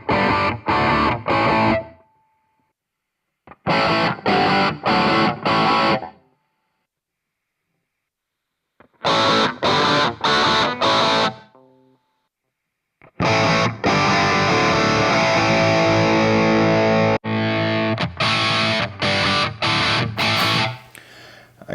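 Electric guitar through an MVave Tank-G amp modeler with reverb, played in loud distorted bursts of rhythmic strummed chords separated by silences, ending in a longer sustained section with ringing chords.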